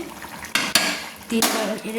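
A spoon clatters and scrapes against a cooking pot as mutton is stirred with water, giving a few distinct metallic knocks over a soft bubbling simmer, close and fairly clear.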